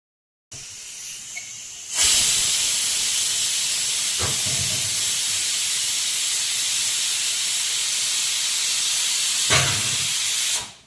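A pressure cooker on a gas stove releases a loud, steady hiss of steam that rushes out continuously for several seconds, with a couple of faint clicks partway through.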